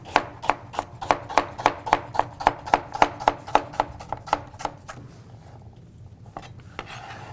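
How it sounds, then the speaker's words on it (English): A knife chopping root vegetables on a cutting board, about fifteen sharp, evenly spaced close knocks in a quick rhythm, then a pause and a few fainter cuts. "When you're chopping these, just like with carrots, always start at your thicker end"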